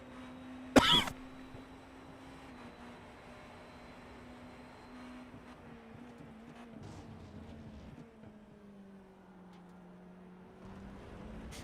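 A single sharp cough bursts out near the start, followed by a long steady race car engine drone at Road America with no further coughing.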